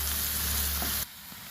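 Chopped onions and green chillies frying in a hot pan, a close, bright sizzle that holds steady and then drops abruptly to a quieter crackle.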